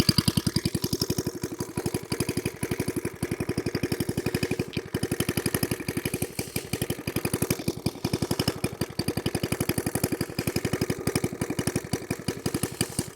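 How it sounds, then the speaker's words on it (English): A Suffolk Squire lawnmower engine idles steadily just after a cold start, a fast, even chugging that stays loud and close throughout with no voices over it. "It's idling nicely."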